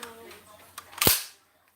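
A single sharp crack from a Swiss-made straight-pull bolt-action gun fired nearby, preceded by a brief voice and a small click, then decaying into quiet.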